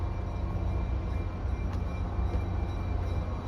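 Heavy continuous rumble of a slow train rolling by at the Danbury Railroad Museum, with Reading Railroad cars, a dense close drone holding steady with light clanks, no talking.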